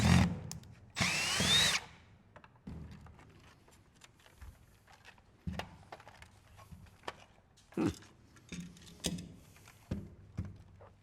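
A power screwdriver backs out screws from a Jeep Wrangler HVAC climate control panel during a teardown, with one loud whirring burst near the start followed by scattered clicks, taps and handling of the plastic housing.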